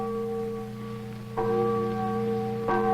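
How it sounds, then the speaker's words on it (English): Church bells ring out at the end of a World War II battle in Manila's old walled city, sustained ringing tones with two fresh clangs struck at steady intervals, clear and without speech. "Church bells herald the battle's end."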